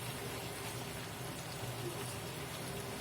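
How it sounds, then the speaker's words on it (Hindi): Aloe vera gel cooking slowly in oil over low heat, a soft steady sizzle and faint bubbling hiss, quiet and continuous throughout with no voices. "आप इसकी आवाज सुन पा रहे होंगे कि ये धीरे धीरे पकने लगा है।"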